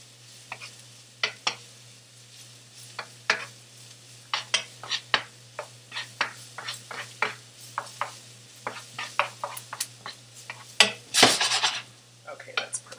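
Chopped onions being stirred in a pan: repeated close scraping and clinking of a utensil against the pan at an uneven pace, over a faint steady hum, with one louder burst of scraping near the end.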